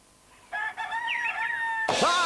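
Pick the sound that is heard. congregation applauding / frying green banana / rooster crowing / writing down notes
rooster crowing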